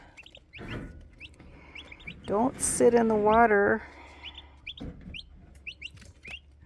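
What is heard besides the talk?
turkey poults chirping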